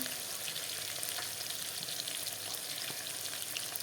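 Rohu fish pieces frying in hot oil, a steady close crackling sizzle with occasional sharper pops, no voices.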